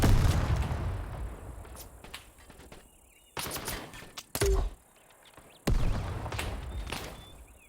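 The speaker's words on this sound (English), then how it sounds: "let's try out this grenade launcher" Grenade launcher fired in a Vietnam War real-time strategy game set in Saigon: several sharp broadband thumps and blasts, each a short loud burst with a brief tail, spaced irregularly over quieter ambient battle noise.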